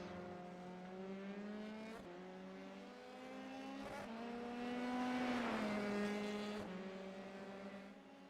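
Race cars drive the Welsh Grand Prix track during a race, a faint, distant engine whine rising and falling in pitch as cars pass through a chicane, with a louder swell midway.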